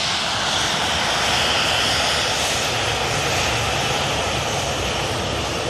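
A Ryanair jet at Manchester Airport gives a loud, steady engine roar that holds without a break, close by and with no voices over it.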